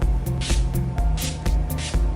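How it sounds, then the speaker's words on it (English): Several short hissing bursts of a fine makeup setting spray mist, about six quick sprays in an irregular rhythm, close and fairly soft. "I spray it like I do my primer spray in the T formation and the X formation"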